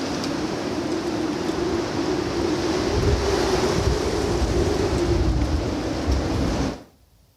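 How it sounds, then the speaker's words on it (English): Strong wind blows over a canal, a heavy continuous rushing roar with low buffeting rumble against the microphone that stays loud throughout and then cuts off abruptly near the end. "Well, the wind's picking up, so it must be time for a cruise."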